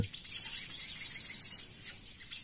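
Two shogun birds fighting and calling close by, a dense run of sharp, high chirps and twittering that goes on nearly the whole time with brief dips, no voices.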